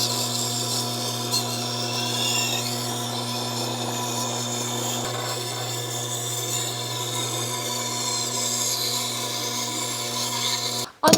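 A kitchen knife is drawn across a Tormek extra fine stone, making a smooth, continuous scraping hiss over the steady hum of the sharpening machine, with a brief clatter at the end.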